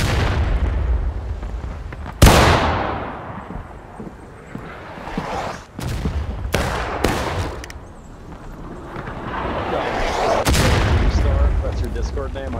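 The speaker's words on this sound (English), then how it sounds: "Killed by artillery, dude." Artillery fire in the Civil War battle game War of Rights: several loud, sharp booms and bursts at irregular intervals, with continuous battlefield rumble and gunfire noise between them and a voice talking over it.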